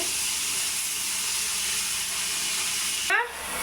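Drumstick (sajna) leaves frying in oil in a pan give a steady, close hiss and crackle that runs evenly, then drops off near the end after a brief scrape.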